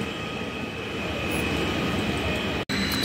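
Train noise at a German railway station on a quiet Sunday, a steady broadband rumble and hiss that holds throughout at moderate level, with a brief sharp dropout near the end.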